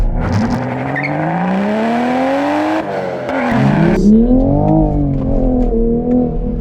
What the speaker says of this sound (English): Let's come to a full stop here and do a quick launch, traction half off sport mode.